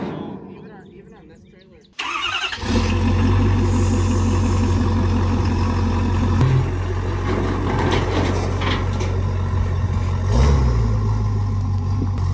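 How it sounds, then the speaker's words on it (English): A SEMA show truck on an 18-inch lift starts up, its engine catching after a quiet stretch, then settles into a loud, steady low rumble with occasional revs as it drives off a trailer, with people talking over it. "This is the last time this truck will ever come off my trailer."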